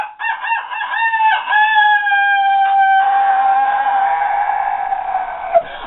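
A rooster crows loudly and close from a big basket of roosters on the way to market in Haiti, a long drawn-out call that holds steady before trailing off, with clucking fowl around it.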